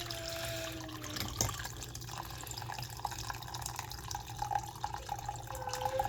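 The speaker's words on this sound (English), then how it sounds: "you're simply pouring off of the yeast here, pouring it out into there" Homemade wine is poured off crushed grapes and yeast through a simple kitchen screen into a vessel, a soft, continuous trickle and dribble with a few small drips, heard close up with no talking.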